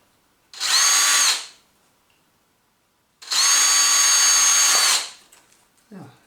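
A power drill boring bolt holes for a mudguard on a Xiaomi M365 electric scooter, two steady high-pitched whining bursts of a second or so each, separated by a pause, with a short faint knock at the end.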